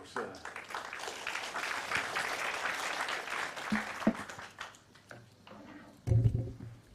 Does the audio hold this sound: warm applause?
yes